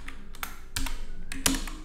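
Several quick clusters of key taps on a computer keyboard during web development work, short bursts spaced through the moment, close and fairly quiet with no voices.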